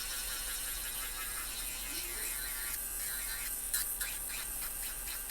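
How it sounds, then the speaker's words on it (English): An electric nail file fitted with a sanding bit shapes the edges of soft gel nail extensions, giving a faint, steady high whir with small rasping flutters. It is close up and there is no speech. "this particular bit came in the one with my nail electric file, and it works really well"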